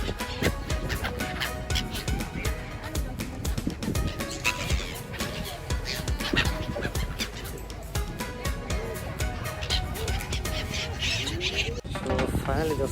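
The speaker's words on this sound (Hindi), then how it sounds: "और काफ़ी सारा एक बर्ड सब उड़े है पंखी सब इतना के है।" A dense mix of birds at an old fort in Qatar, with many rapid, overlapping calls and wing flutters, loud and continuous alongside crowd noise and someone talking.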